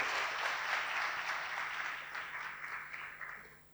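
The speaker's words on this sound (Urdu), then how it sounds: "ان کے لیے تالیاں بجائیں" An audience at a freelancing seminar gives sustained applause, a dense, even roar of clapping hands from a sizeable crowd that gradually fades toward the end.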